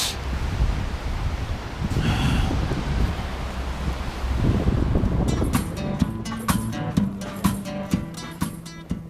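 Strong, cold wind at around freezing in Russia roars and buffets the microphone in a loud, rumbling gust, then other tonal sounds take over in the second half.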